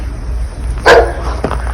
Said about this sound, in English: Oh, there's a doggy across. The doggy, can you hear the doggy across?